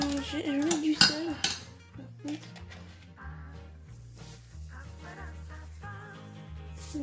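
Cherry tomatoes cut in half are stirred in a bowl with utensils, giving clinks and scrapes of metal against dishware, louder at first and then quieter, over a steady background of low music.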